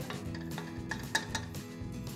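Dal lentils with water, turmeric and asafoetida being mixed in a pressure cooker pot, a short stretch of quiet stirring with soft scrapes and a few light metallic clinks.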